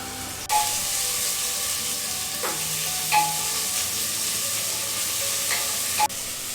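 Small, evenly chopped onion pieces fry in a pan for a mint and peas pulao, giving off a steady, close, broad sizzle with a few brief stirring scrapes and no voices.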